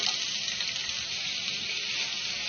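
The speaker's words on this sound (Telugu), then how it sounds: "ఆయిల్ వేసుకోవాలి ఇప్పుడు దీనిలో ఉల్లిపాయ ముక్కలు పచ్చిమిర్చి ముక్కలు వేసుకోవాలి" Onion and green chilli pieces fry in hot oil in a pan, making a loud, even, close-up hiss that holds steady from start to finish with no talking.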